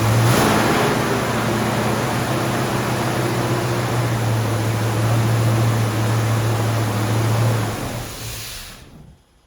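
A carburetor engine running lean, with a steady loud droning hum and rushing noise that holds throughout before dropping away abruptly at the end.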